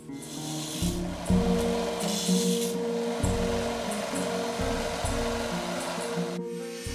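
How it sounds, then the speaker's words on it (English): Steady abrasive grinding of a belt sander flattening the bevel on the steel blade of a 100-year-old scorp, loud and continuous throughout, with a rising and falling motor drone and brief dips in pressure. "On the belt sander I made the bevel flat and started forming the cutting edge"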